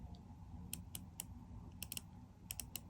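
A 60-click dive watch bezel on a Citizen Promaster Diver is turned in short bursts, giving quiet, crisp ratcheting clicks in small clusters over a faint background.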